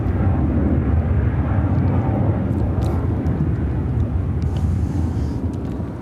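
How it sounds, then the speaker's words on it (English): United Airlines Boeing 757-200 jet taking off from Chicago O'Hare toward Newark, a loud continuous low engine roar that stays strong and easing slightly toward the end. "United Airlines 2654 taking off to Newark on the"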